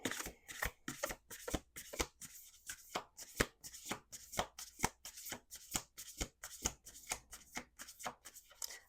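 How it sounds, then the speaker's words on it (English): Oracle cards shuffled by hand in a quick, steady run of crisp riffling bursts, close and clear with no talk over them. "Two more shuffles."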